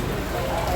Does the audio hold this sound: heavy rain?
yes